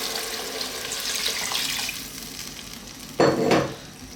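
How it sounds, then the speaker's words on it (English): Water poured from a tap or jug into a pot of peas and mint for vegan pea soup, a steady splashing gush that swells and briefly grows louder near the end, with no talking. "We're simply going to add some water."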